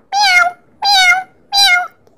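Three loud, clear meows in an even rhythm, each about half a second long, with short silences between them; a person's voice imitating a cat.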